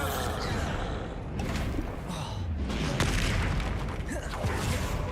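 Explosions from the Bombarda blasting spell in the Hogwarts video game land as dense, loud booms over a continuous wash of game noise and effects throughout.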